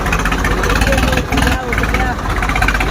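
Diesel tractor engine running close by with a loud, rough, steady chugging throb and brief dips in level, with a voice speaking over it.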